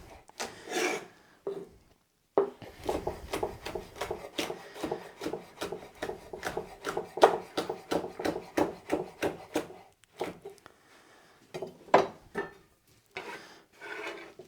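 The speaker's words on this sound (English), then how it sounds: "the other one I'm just going to cut nice and fine for the salsa" A knife cutting vegetables finely on a wooden chopping board for salsa during weekly meal prep, a rapid, regular run of close rasping strokes after a brief pause, stopping near the end and resuming with a few more cuts.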